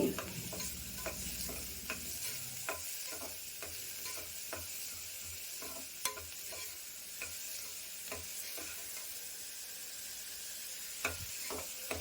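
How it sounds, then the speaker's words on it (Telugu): Onions fry in hot oil for a curry, giving a steady close sizzle with scattered sharp ticks and scrapes of stirring throughout. No one speaks. "ఆనియన్స్ అయితే వేసుకుంటున్నాను ఒక ఒక టూ ఆనియన్స్ బాగా ఫ్రై చేసుకోండి"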